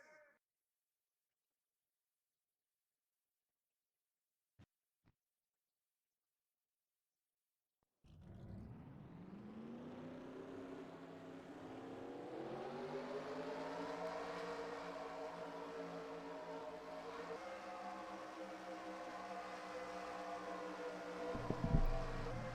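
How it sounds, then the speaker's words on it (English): Race car engines in a NASCAR-style racing video game at a superspeedway start after several seconds of silence, then build into a loud, sustained droning chorus of many engines, with the revving rising and holding steady toward the end. "Drivers, start your engines!"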